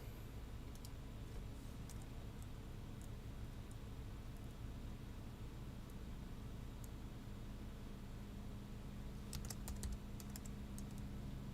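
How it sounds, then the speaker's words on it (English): Keys tapped on a computer keyboard, a faint sparse clicking over steady background hiss, with a brief quick burst of keystrokes near the end. "We're going to type"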